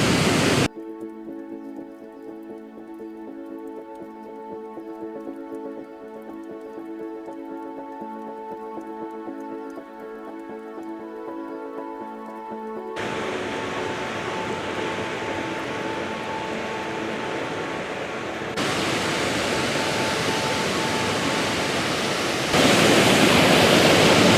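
Waterfall rapids rush in a steady, roaring wash that takes over after a long stretch of sustained tonal music, then grows louder and fuller toward the end, with no one speaking.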